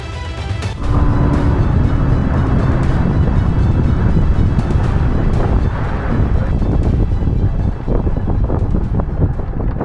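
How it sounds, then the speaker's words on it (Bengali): A speed boat ride across open water, loud buffeting wind roar and engine drone with water slapping against the hull, continuous and close throughout. "এক্সট্রিম একটা স্পিড বোট রাইড করে আমরা চলে এলাম মধ্যনগরে"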